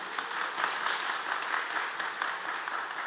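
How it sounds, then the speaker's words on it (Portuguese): Steady audience applause fills a panel session at a culture, ESG and sustainability festival: a dense, even patter of many hands clapping, fairly soft and distant, with no speech over it. "Uma salva de palmas para a Vivi"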